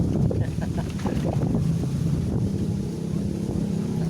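Strong wind buffets the microphone in rough, uneven gusts, a low rumbling roar with flapping bursts throughout.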